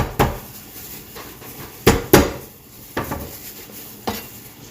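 Plates and cutlery clink and clatter as dishes are stacked and moved, several sharp knocks spaced irregularly over a low background hum, no talking.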